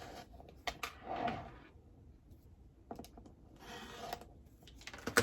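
Rotary cutter or scissors trimming the remaining two sides of fabric pieces for an autumn mystery quilt block, heard as soft rubbing and scraping strokes with light taps, fairly quiet and close.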